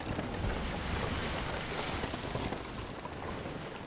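In the pirate game Sea of Thieves, a sailing ship pushes against the wind at sea, with a steady loud rush of wind and water noise and no voices.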